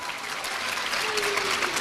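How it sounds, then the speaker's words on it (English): Brief burst of continuous clapping from a young audience at a youth ambassadors ceremony, a dense, even wash with a faint tone or voice trace partway through. "You might as well clap for yourself."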